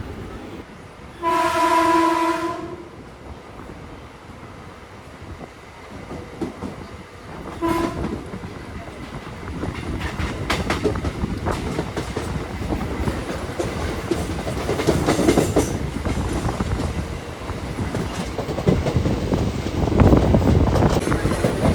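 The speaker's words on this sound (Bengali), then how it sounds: "Skipping Konnagar, platform number 1 through passing intercity express." Intercity express running through Konnagar station on platform 1 without stopping: a loud horn blast, then a brief second toot, followed by a long, building rumble and rattle of wagons rolling past.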